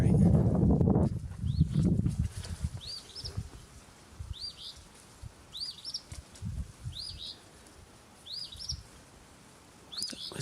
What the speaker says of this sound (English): Why is that bird screaming?